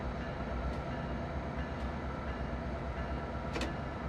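An MP36 passenger locomotive in the Train Sim World game rolls along the San Francisco to San Jose route, a steady low rumble of engine and wheels with faint rail clicks, continuous and fairly quiet.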